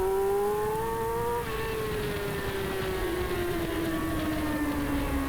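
Pro Sportbike racing motorcycles run flat out around the track, a loud, sustained engine howl with a slowly falling pitch as the bikes stream past, with no pauses.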